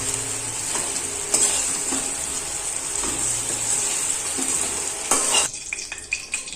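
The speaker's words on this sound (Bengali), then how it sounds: "নুন আর হলুদ দিলাম, দিয়ে আলুটাকে ভেজে নিচ্ছি" Potatoes fry in hot oil with salt and turmeric, a continuous close sizzle under repeated scraping and clinking of a spatula stirring the pan, fading into quieter tapping at the end.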